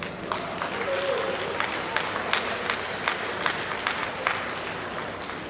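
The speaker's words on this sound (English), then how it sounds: "Please, a warm round of applause once again for Dr. Mrs. Offo Teresa" Audience applause at a Nigerian broadcasting association event, a steady bed of clapping with sharper individual claps standing out, fairly close and moderately loud, with some murmured crowd noise mixed in.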